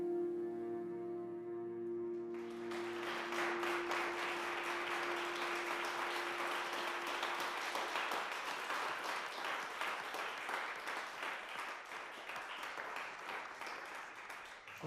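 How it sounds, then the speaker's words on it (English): Sustained applause from a room of delegates at a UN Security Council meeting, many hands clapping steadily and densely for over ten seconds after a voice speaking at the start. "people don't clap, but they're clapping for a remarkable young woman"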